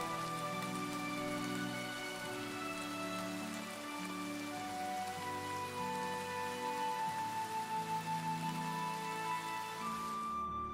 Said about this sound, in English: the rain forces us inside until the next morning